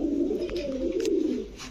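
A Rajshahi Genda pigeon coos in a low, steady, throaty rumble that runs close and unbroken for under two seconds, with faint background noise and no talking.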